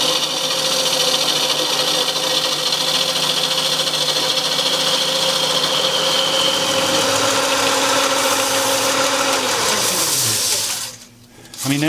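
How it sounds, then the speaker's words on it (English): A spindle roughing gouge cuts a spinning wooden spindle on a lathe with a steady, continuous hiss over the lathe's whirring motor. The motor winds down near the end, briefly drops away, then picks up again. "That's where I'm cutting the wood, and it will cut very smooth."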